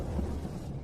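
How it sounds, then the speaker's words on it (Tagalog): Low rumbling thunder rolls steadily through a brief stretch of dark, heavy sound with no voices. "Boss, hindi tama ang kulog na ito."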